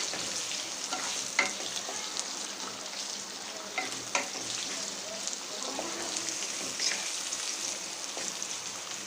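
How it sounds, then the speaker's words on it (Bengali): Chopped onions frying in a pan and browning give off a steady, moderate sizzle with a few scattered crackles and pops, with no talking. "পেঁয়াজ কুচিটা আমি ব্রাউন কালার করে ভেজে নেব।"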